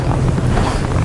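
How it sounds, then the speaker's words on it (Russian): Strong winter wind buffets the microphone during ice fishing in Yakutia, a steady, heavy low rumble with a gusty broadband roar, no voices present. "дует такой неприятный, достаточно противный, мерзопакостный ветер"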